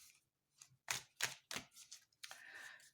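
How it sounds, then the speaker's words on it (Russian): Thick, heavy tarot cards are shuffled by hand, giving a few quiet, crisp clacks and riffles in quick succession that end in a brief rustling slide. "Карты тяжело тасуются"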